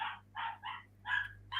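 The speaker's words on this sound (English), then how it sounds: "Dogs are giving it large." Dogs bark in short sharp bursts, about four or five yapping barks spaced unevenly, fairly close and clear over a quiet low hum.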